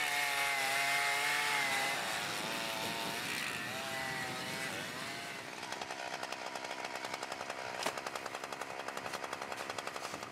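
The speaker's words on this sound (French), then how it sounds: "Il faut commencer par scier la glace." A chainsaw cuts through sea ice in the Aleutian Islands of Alaska, a loud, steady engine drone that shifts into a rapid rattling buzz as the chain bites in, with one sharp knock near the end.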